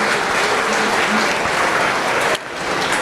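An audience at a beef cattle showmanship event applauds the contestants, a loud, dense, continuous clapping that dips briefly near the end before resuming.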